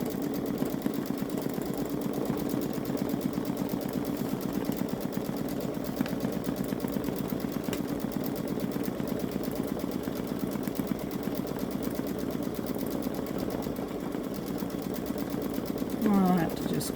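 A Babylock Solaris Vision embroidery machine steadily stitches leaf outlines on a fox design for a sweatshirt, giving a continuous fast mechanical hum and rattle throughout, with a brief higher chirp near the end.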